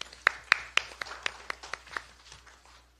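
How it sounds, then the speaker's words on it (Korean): At a political party's innovation committee launch meeting, a small group in a meeting room gives sparse clapping: about ten crisp, distinct claps in a loose rhythm, gradually slowing and fading out. "다시 한번 위원장님과 위원 여러분께 격려의 박수 부탁드립니다."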